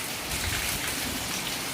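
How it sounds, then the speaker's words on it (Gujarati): Heavy rain pours steadily in Porbandar, a dense, continuous hiss of drops hitting surfaces close by with no voices. "વરસાદ આમ દેખાય જોરદાર"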